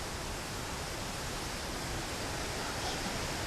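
A waterfall at an exotic filming location roars as a steady, dense wash of broadband noise, constant and fairly close, with no voices over it.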